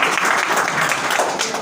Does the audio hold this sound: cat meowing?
no